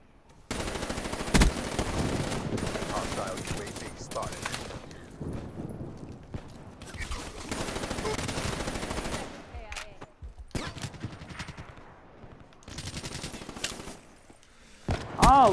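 Gunfire in Call of Duty Black Ops III: long stretches of rapid automatic fire and sharp shots in several bursts separated by brief pauses, moderately loud, with faint voices now and then.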